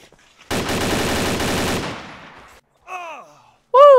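Gunfire in the ARMA 2 DayZ mod: one loud, sustained burst of rapid automatic fire that rings out and decays, followed by short, sharp tonal game sounds.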